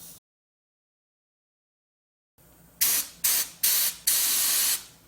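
Rust-proofing spray hisses from a compressor-fed tip with holes around the outside, fanning outward: silence, a faint hiss, then four sharp close bursts, the last one longer.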